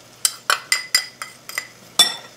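Baking soda being mixed into a biscuit baking mix with a metal utensil, seven sharp clinking taps against a bowl at a steady rhythm, close and clear with no talking.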